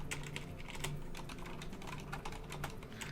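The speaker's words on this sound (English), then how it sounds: "I apologize for the loud typing." Fast, loud clatter of fingers on a computer keyboard during a Hearthstone tournament broadcast, close and continuous with irregular bursts of key clicks and no talking.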